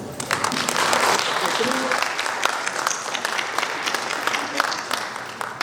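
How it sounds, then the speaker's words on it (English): A sustained round of applause from a crowd at an alumni meet, steady dense clapping filling the room with a faint voice underneath. "Dr. K.P. Gopal Krishna, with a warm round of applause"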